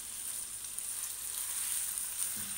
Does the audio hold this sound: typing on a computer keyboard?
no